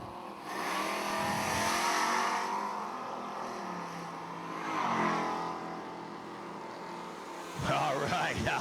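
Drag race cars, including a 1968 Super Bee with a 440 engine, roar at a strip, a loud sustained engine drone that swells and fades, with a fresh surge of revving near the end and a commentator talking over it.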